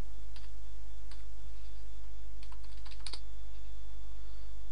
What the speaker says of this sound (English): So you type your password